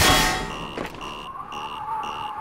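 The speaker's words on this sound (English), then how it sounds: "Some kind of an alarm." An alarm sounds in the video game Half-Life: Entropy Zero, repeated electronic beeps pulsing in an even rhythm after a loud metallic clang, with no voices.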